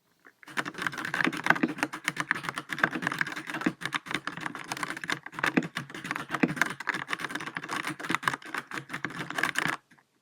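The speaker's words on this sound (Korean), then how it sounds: "일단 갈축 소리 한번 먼저 들어보세요" Rapid, steady typing on a Keychron K14 mechanical keyboard with Gateron brown switches, a dense clatter of soft clicky keystrokes heard close up for about nine seconds, then stopping.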